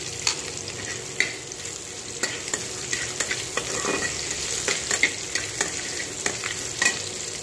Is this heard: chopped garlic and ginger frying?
yes